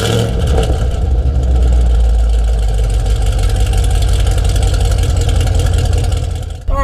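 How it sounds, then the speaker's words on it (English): A modified 2013 Chevrolet Camaro ZL1 with 670 horsepower fires up and runs with a loud, steady, deep engine rumble that stays close and constant, then dips briefly at the end. "let's start her up and go for a drive."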